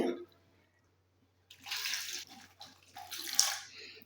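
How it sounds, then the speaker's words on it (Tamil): Water poured into an iron pot in two separate splashing pours after a short silence, close and moderately loud. "ஒரு 2 டம்ளர் அளவுக்கு நம்ம இதில் தண்ணி சேர்த்துக்கலாம்."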